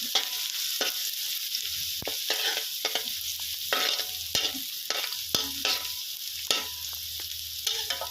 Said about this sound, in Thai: ใส่กระเทียมที่เราทุบไว้ เมื่อสักครู่นะครับ ลงไปผัดให้หอมนะครับ